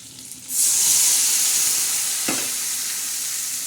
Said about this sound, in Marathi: वांगे टाकले तर वांगे फ्राय कसे टाकता हे मी तुम्हाला दाखवले